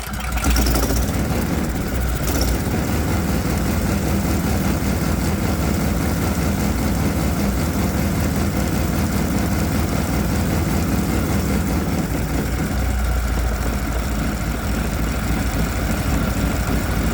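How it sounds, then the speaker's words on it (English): An air-cooled Predator 212 small engine fitted with simple fuel injection idles steadily, a continuous low rumble with a brief hiccup near the start, running alone without talk. "somehow the Arduino reacted and kept the engine running."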